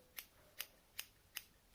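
Pointy sharp scissors trim needle-felted wool fur on a small highland cow figure, giving five crisp, evenly spaced snips about every 0.4 seconds, close and fairly quiet with no talk.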